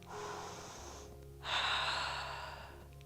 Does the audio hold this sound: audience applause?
no